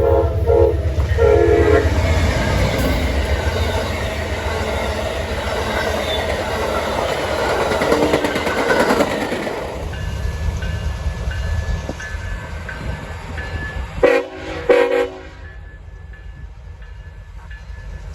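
A CSX freight train rolls past with its locomotives, giving a loud, continuous rumble and rattle of cars. A horn sounds, and the noise thins out toward the end.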